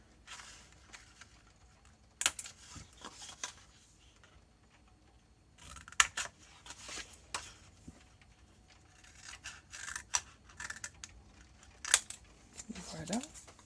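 Scissors snip through paper to cut two small rectangles for a photo album box, quiet scattered clicks and short cutting bursts in a few clusters, with a voice talking faintly in the background.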